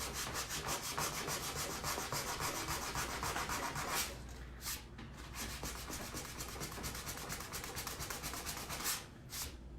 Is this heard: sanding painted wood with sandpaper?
yes